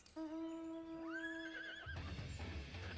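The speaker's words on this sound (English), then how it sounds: "It's a brown horse." A brown horse mount in Final Fantasy XIV gives a single drawn-out whinny that rises and wavers, followed by a low rumbling thud, clear and alone.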